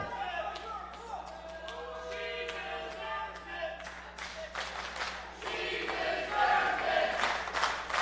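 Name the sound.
wrestling event crowd cheering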